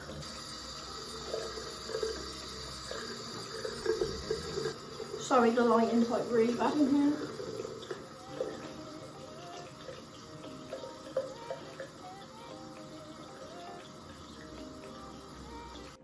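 Tap water runs and splashes as hands rinse a face, loudest in the middle stretch, while a person speaks briefly in a quiet room.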